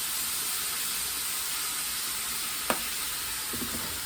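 Cabbage simmering in a pot with a spoonful of butter gives a steady soft sizzle and hiss, with a single sharp click of a spoon partway through and faint stirring taps after.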